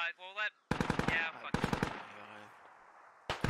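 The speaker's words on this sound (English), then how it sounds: "Shots being fired pretty close." Close bursts of rapid automatic gunfire in the military shooter game Squad, two loud strings of shots separated by a brief gap, then a fading tail and another burst at the end, with a voice heard at the start.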